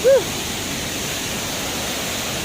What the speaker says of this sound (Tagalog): ito yung taas ng waterfalls